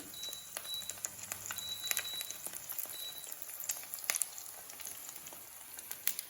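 Steady crackling sizzle of salmon fillets frying in a hot pan, with scattered sharp pops and spits over a constant hiss, fairly close.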